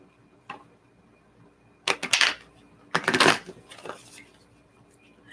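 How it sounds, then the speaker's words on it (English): A deck of cards gets riffle-shuffled in two quick, crisp bursts of fluttering clatter, one after another, with faint handling noises in between and quiet surroundings. "Let me shuffle these one more time."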